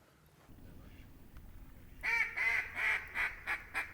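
Mallards quacking in flooded Arkansas timber: a quiet stretch of ambient murmur, then a rhythmic run of six clear, nasal quacks, moderately close and fairly loud.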